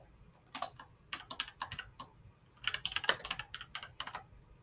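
Keys on a computer keyboard clatter during coding in two quick bursts of rapid typing separated by a short pause, close and crisp in a quiet room.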